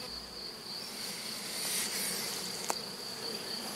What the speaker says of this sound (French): c'est les abeilles du marronnier chez Sébastien